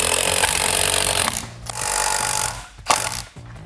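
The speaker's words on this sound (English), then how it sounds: "take our half-inch impact here and slowly start to raise up our scissor jack" A half-inch impact wrench driving a scissor jack to lift a car during a tire change, loud close hammering bursts in three runs with short pauses between them.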